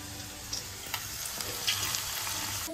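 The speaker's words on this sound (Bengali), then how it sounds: "তার সঙ্গে এখানে আমাদের চিকেন পকোড়া আরেকটা কড়াইতে বসে গেছে।" Chicken pakora marinated in biscuit crumbs, arrowroot and black pepper frying in oil in a wok, a continuous crackling sizzle with a few small pops, no talking.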